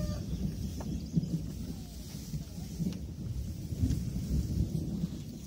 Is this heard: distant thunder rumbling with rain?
yes